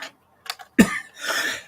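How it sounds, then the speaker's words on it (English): A single sharp cough stands out at close range between brief faint throat sounds and rustles. "I know I'm still coughing a little bit"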